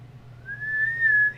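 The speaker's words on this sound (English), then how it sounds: "Can you whistle?" A single sustained whistled note from a person, steady and clear with a slight rise in pitch toward the end, over a low constant hum.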